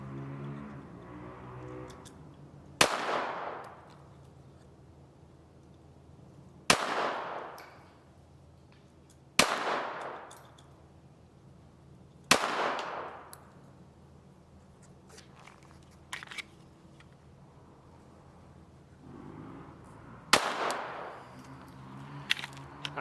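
Glock 44 .22 LR pistol firing five sharp, separate shots at uneven intervals, each a crisp crack with a short ringing decay, fairly close.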